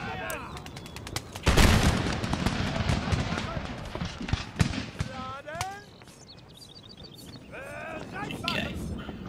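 Musket volleys of flanking fire in Empire: Total War, a crackling burst of massed shots followed by scattered rifle pops and battlefield clamor, loud and close with occasional calls over it.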